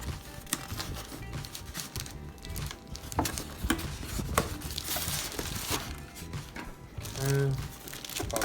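Packaging for a Boss R1100 car amplifier being opened up close: crinkling plastic, rustling and scattered taps and thumps, with a brief voice sound near the end.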